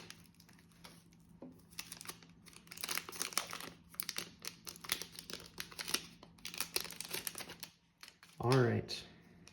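A Donruss trading card foil pack is torn open and its cards shuffled, with close crinkling, rustling and tearing in bursts and a short spoken word near the end.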